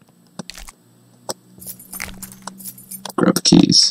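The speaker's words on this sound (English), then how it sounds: "Grab the keys." Keys jangle sharply as they are grabbed in a horror game, a quick metallic rattle ending in a louder clinking burst, with faint game ambience and a voice talking underneath.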